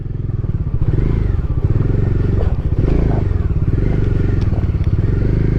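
A Bajaj Dominar 400 motorcycle engine idles close and loud with a steady, rapid thumping pulse, and light clatter and scraping are mixed in throughout.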